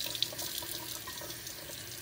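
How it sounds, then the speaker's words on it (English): Cold water running steadily from a tap over a metal pipe to cool it, a continuous close splashing flow with no talk. "I'm going to run some cold water on that."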